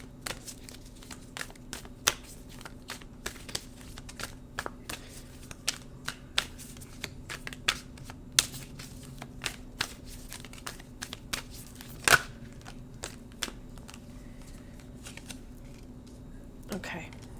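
Tarot cards shuffled by hand in a quiet room make soft, irregular papery flicks and snaps, faint and close, while a person talks quietly through the shuffling.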